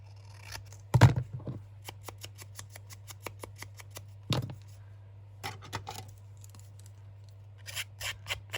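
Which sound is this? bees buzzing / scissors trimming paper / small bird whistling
scissors trimming paper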